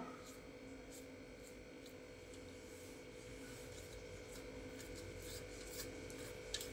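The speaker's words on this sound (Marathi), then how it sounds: "तर हाताच्या साहाय्याने असं पूर्ण पानांना लावून घ्यायचं आहे।" Bare hands spread gram flour paste over taro leaves, giving a faint, continuous soft rubbing and smearing sound at low volume with no talking.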